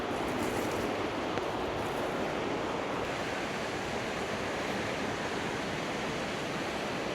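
A fast-flowing river rushes through a remote gorge in Turkey, a steady, loud, broadband roar of water that fills the whole stretch without pause.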